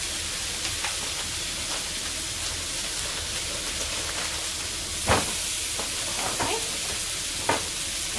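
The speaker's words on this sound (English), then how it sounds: "we're gonna just let those saute up" Food sautés in a pan for a keto Halloween dinner, a continuous hissing sizzle with a few sharp clicks and scrapes of a utensil toward the end.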